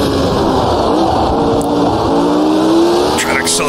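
A Lotus 72 race car at Long Beach in Automobilista 2 under hard acceleration, a loud, steady engine with rising pitch sweeps as it climbs through the revs, while someone talks over it.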